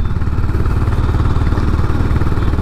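Honda CB 350 H'ness motorcycle pulling in fifth gear, a steady, loud, close engine drone with a low throbbing exhaust pulse and no talking.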